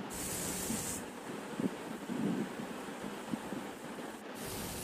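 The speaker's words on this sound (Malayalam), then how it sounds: "ഇത് മീഡിയം ഹീറ്റിൽ ഫ്രൈ ചെയ്തെടുക്കാവൂ" Beef cutlets fry in oil in a pan over medium heat, giving a steady, close sizzling hiss with soft crackles and pops and no talking.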